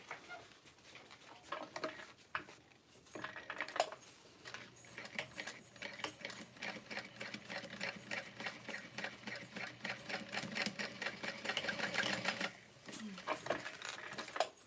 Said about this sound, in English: I basically just chain sew those